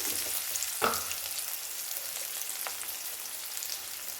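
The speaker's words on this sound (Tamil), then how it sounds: "இப்போ நல்லா வெங்காயம் வதங்கட்டும்" Onions sauté with salt and two green chilies in a pan, giving a steady, close sizzle. A single clear scrape of a stirring spoon comes early, then the frying continues evenly.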